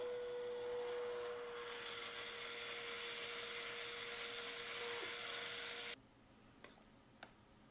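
Stick blender whirring steadily while mixing hot process soap batter in a crock, a close, even motor hum for about six seconds that cuts off abruptly, followed by a couple of faint taps.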